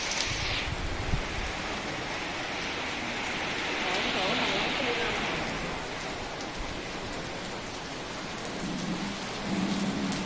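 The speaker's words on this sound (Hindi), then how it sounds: "बारिश भी बहुत तेज़ है" Heavy rain with strong wind gives a loud, constant broadband roar that swells slightly midway, with faint low voices underneath near the end.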